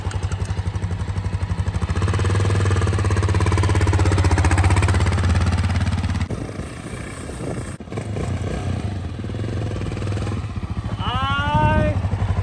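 A Honda XR dirt bike idles and revs on its first ride, giving a steady rapid thumping engine beat up close that dips and picks up again, with people talking over it.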